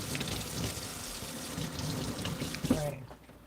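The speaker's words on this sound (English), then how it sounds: "I'm gonna rinse it because I use it outside. And this is the kitchen scissor." Kitchen scissors are rinsed under a running kitchen tap, with a steady rush of water splashing into the sink that cuts off abruptly near the end.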